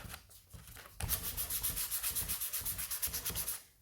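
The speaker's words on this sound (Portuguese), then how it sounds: "O lixamento é uma coisa que não é bom de fazer, é uma coisa chata de fazer" Hand sanding a wooden door: rhythmic back-and-forth scratchy rubbing strokes, about a dozen in quick even succession, close and fairly quiet, with no talk.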